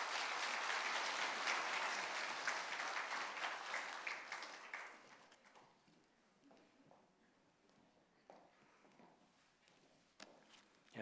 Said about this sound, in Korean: 우리 다시 한번 박수로 축복하겠습니다.